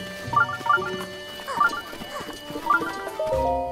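Horse hooves clip-clop faintly in an irregular patter in The Legend of Zelda: Breath of the Wild near Hateno Village, under a soft tonal game soundtrack.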